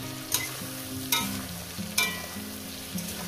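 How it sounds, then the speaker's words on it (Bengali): Okra frying in a pan over a low flame, a steady sizzle broken every second or so by sharp scrapes of a spatula stirring it; no voices, with a low hum underneath. "দেখুন আমি ঢেঁড়সটাকে কিভাবে ভেজে নিচ্ছি"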